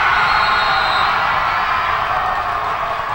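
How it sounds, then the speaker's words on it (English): A high school basketball crowd in a gym during a close game between the Nevada Union Miners and San Juan Spartans, a loud, steady roar of voices and cheering filling the space without letup. "You can hear the crowd behind me"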